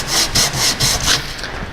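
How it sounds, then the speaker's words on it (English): A brake lathe cup adapter is rubbed across sandpaper on a flat surface, with about five quick, rhythmic back-and-forth scraping strokes, close and fairly loud. "using a flat surface and sandpaper, clean the cup adapters surfaces here like this"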